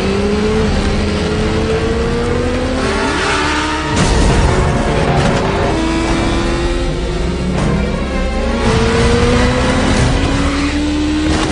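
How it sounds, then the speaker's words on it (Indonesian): A motorbike engine revs hard during a chase scene in a Mission Impossible film, its pitch climbing in repeated rising sweeps, loud and continuous, with engine roar mixed among film sound effects and no talk. "Dia pun langsung mengambil motor anak buah Solomon dan langsung tancap gas mengejar Ilsa."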